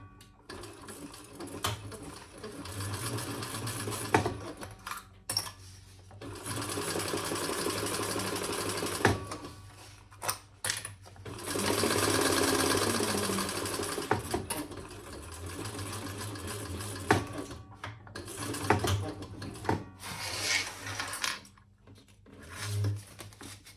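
Sewing machine basting a zipper in place at a 1/8-inch seam on a crossbody bag, running in several bursts of rapid stitching separated by short pauses, close and clear.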